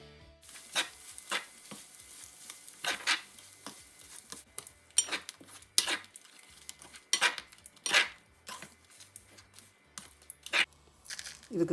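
Grated coconut added to a pan for Sri Lankan coconut sambol and stirred, giving intermittent scraping and clinking of a utensil against the pan in irregular bursts, fairly quiet, with no talking.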